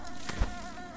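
Bees buzz in the video game Hollow Knight, a brief, close insect drone with a soft thump partway through.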